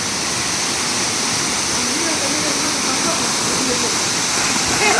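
Steady, dense rush of a waterfall, loud and close, with a continuous broadband roar that holds evenly throughout and slightly swells at the end.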